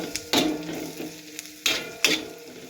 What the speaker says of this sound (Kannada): ಫುಲ್ಲು ಬ್ರೌನಿಷ್ ಬರೋ ಮಟ್ಟ ಹಿಂಗೆ ಫ್ರೈ ಮಾಡ್ಕೋಬೇಕಿದ್ನ